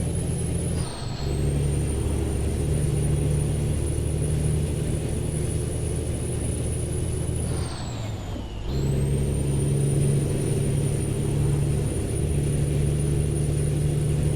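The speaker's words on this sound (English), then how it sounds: "let you guys listen to the sound of American Truck Simulator with this beautiful engine" A steady low engine of an International Eagle 9400i truck in the game American Truck Simulator drones continuously, with a high whine above it that dips twice as the gears shift, heard close and without talk.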